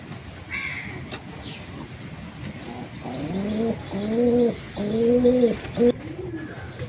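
Domestic pigeons coo in a run of low, throaty calls, close by, with quiet ambient noise between them.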